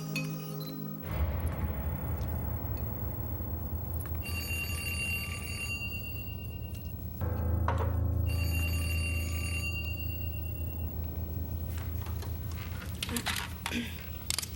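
A telephone bell rings in bursts of high metallic tones, with two clear ringing spells between about one and ten seconds over a steady room background, while voices talk nearby.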